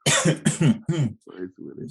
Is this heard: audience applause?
no